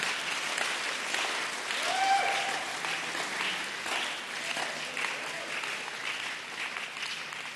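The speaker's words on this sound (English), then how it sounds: "Can we give the Lord a mighty clap offering for our parents?" A church congregation claps together in sustained, dense applause that keeps a steady level, with faint voices mixed into the crowd noise.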